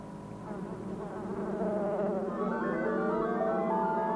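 Dense swarm of killer bees buzzing steadily and fairly loud, a continuous insect drone with shifting overtones that swells slightly midway and holds to the end.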